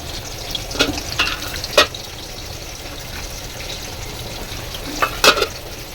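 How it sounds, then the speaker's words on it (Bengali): Pieces of pointed gourd fry in hot oil with a steady sizzle, broken by a few sharper crackling bursts as they are stirred in the pan. "তেলটা আমার ভালো গরম হয়ে গেছে এবার পটলগুলো আমি ভাজা করে নেব"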